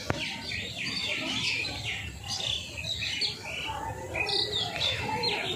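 A pair of Malbai pigeons kept at a house coo and call, while lively chirping from other birds fills the background and a faint voice talks underneath.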